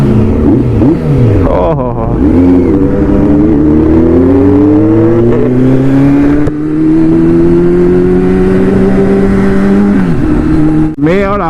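A Kawasaki Z900 motorcycle fitted with a new aftermarket exhaust revs loudly and close by. Its engine pitch climbs and falls through repeated throttle blips and sustained high revs, with a brief exclamation from a rider partway through.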